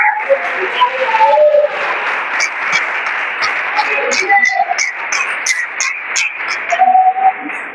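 A church congregation applauding during an evening family worship service, a dense wash of clapping throughout with voices and shouts mixed in over it.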